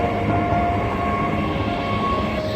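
A train rolls past unseen in thick fog, a steady low rumble and rattle at moderate distance that holds evenly throughout with no voices.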